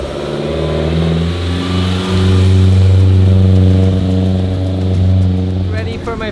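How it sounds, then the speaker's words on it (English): A Porsche race car engine warms up at the track, idling and blipping with a deep, steady droning note close by that swells in the middle, while a person talks over it. "I'm warming up the car now."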